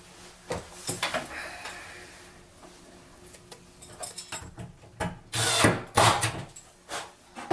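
A power drill bores 5 mm holes for closet hardware, giving short, scattered bursts of whirring and grinding that grow louder toward the end, with handling noise between them.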